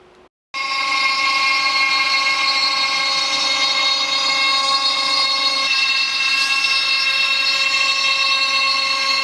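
A CNC machine cutting reclaimed timber for a desk starts abruptly, then runs loud and steady with a sustained high whine that holds throughout, with no talking.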